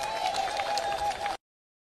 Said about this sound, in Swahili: tupigie makofi.